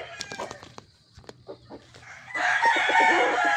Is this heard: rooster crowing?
yes